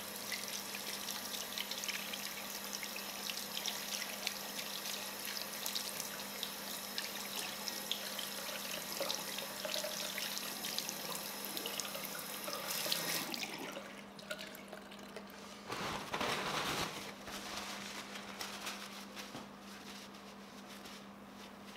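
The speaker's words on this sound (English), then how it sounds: "Wash your hands with soap and water and dry well." Tap water runs steadily into a sink while hands are washed with soap, a continuous close splashing that shifts and briefly thins near the end, with no talking.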